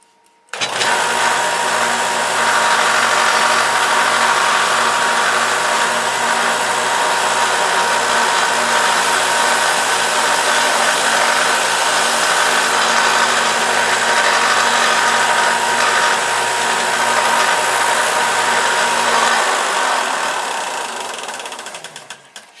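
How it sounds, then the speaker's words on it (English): A belt sander runs continuously at close range, shaping a part for a control line model airplane, a steady loud whirring roar that holds for about twenty seconds before winding down, with no talk over it. "Let me just belt sand this real quick."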